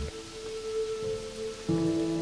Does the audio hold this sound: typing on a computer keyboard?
no